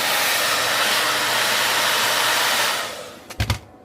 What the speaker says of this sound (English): I always use my blow dryer on the hot setting